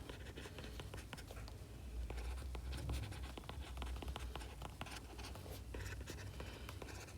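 Chalk or marker scratching steadily across a board while the limit definition of the derivative is written out in a calculus lecture, a continuous dense scratching with small taps, close and fairly quiet.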